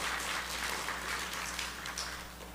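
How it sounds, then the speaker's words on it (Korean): A church congregation during a Sunday morning service claps to welcome and thank returning visitors, a soft, steady patter of applause heard from a distance under a low hum. "박수로 여러분들 감사하시길 바랍니다"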